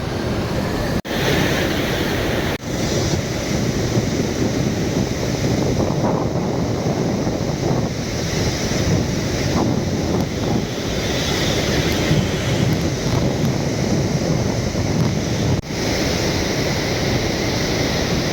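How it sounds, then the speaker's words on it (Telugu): Floodwater surges heavily past a dam with eight open gates near a village in Nalgonda district, a loud, unbroken roaring rush with wind buffeting the microphone. "నీరు మాత్రం చాలా పోతున్నాయి విపరీతంగా చూడండి"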